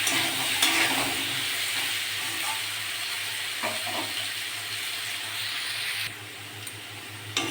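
Potatoes fry in oil seasoned with salt and turmeric, a constant close sizzle broken by occasional stirring scrapes, with no voices.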